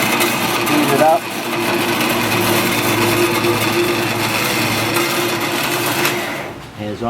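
A Johnson 7x12 band saw with a 110-volt single-phase motor runs steadily as its speed is raised, giving a loud, continuous mechanical whir close by, with a voice talking over it.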